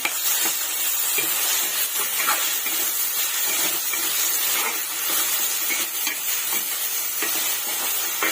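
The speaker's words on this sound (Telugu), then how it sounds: "ఇప్పుడు కట్ చేసుకున్న 2 మీడియం సైజ్ అండి టమోటాలు కూడా యాడ్ చేసుకొని ఇవి కూడా ఆయిల్లో ఫ్రై చేసుకున్నాము" Two chopped medium-sized tomatoes frying in hot oil, giving a steady close sizzle and hiss with occasional stirring scrapes and no talk.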